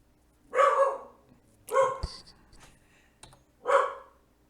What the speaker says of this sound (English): Sorry, my dog. Very excited.